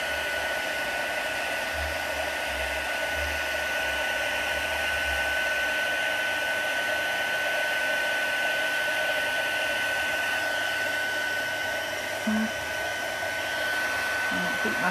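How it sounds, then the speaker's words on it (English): A heat gun used for heat embossing in a craft setting, a loud, steady, close blowing whir that runs unbroken for the whole stretch, with no talk. "The heat gun's not helpful."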